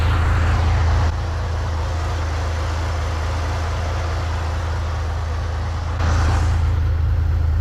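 A 1963 Chevrolet Corvair's engine drones steadily from inside the car while driving, a constant low rumble with road and wind noise that rises slightly toward the end, no talking.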